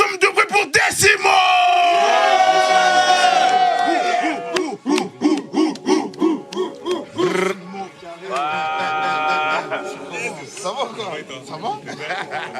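A loud studio audience at a show cheers, yells and whoops in bursts, with rhythmic shouting in the middle and a host speaking over the crowd.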